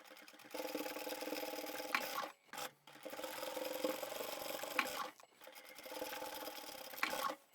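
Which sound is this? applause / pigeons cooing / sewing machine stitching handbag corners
sewing machine stitching handbag corners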